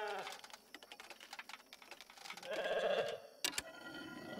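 A single sheep bleat in the medieval strategy game Wartales, one short, faint cry over quiet clicking, with a sharp knock just after.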